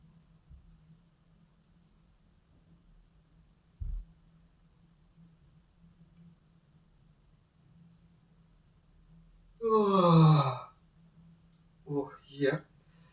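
A person yawns aloud while stretching both ways during a slow stretching routine. The drawn-out voiced yawn falls in pitch near the end of a quiet stretch, followed by a shorter second breathy vocal sound.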